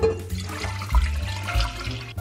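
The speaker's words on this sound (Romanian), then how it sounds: "Punem apă în cratiță." Water is poured into a cooking pot in a home kitchen, a loud, continuous splashing and gurgling stream with no speech.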